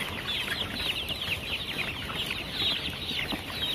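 Chickens, young roosters, clucking continuously close by while eating raw cassava, a busy overlapping chatter of several birds with soft pecking noise underneath.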